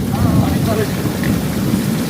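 Torrential rain falls outside as a dense, unbroken roar, with no voices for a couple of seconds.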